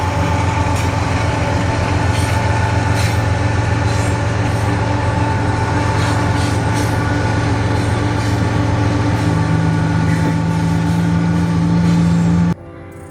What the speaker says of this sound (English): we catch this intermodal train